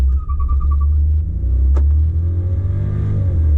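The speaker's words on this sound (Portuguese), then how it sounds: "a gente pisa no freio e no acelerador para o carro já sair com o máximo de potência" A Volkswagen Virtus Highline 200 TSI launches hard from a standstill, its engine droning with a deep, steady rumble that climbs slightly in pitch, heard close from inside the car without talk.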